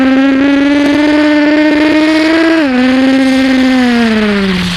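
A voice mimics a Bullet motorcycle engine: one loud, steady, buzzing drone that holds its pitch, dips briefly, then slides lower, with no words spoken.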